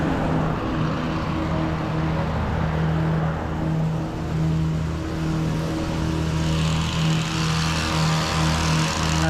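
Fast traffic, including big trucks, passes along a very busy road beside a cedar hedge, giving a continuous loud engine rumble and tire roar that swells slightly as vehicles go by, with no talking.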